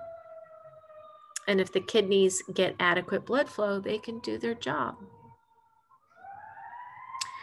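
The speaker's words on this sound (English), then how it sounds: "excuse the sirens, I live right next to a fire department." Fire department sirens wail outside, a steady, fairly faint rising and falling tone running under someone talking nearby, then growing clearer once he pauses.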